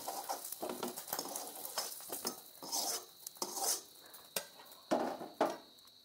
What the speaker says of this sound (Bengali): পনিরগুলো আমি ভেজে নিয়েছি, এখন তুলে নিচ্ছি।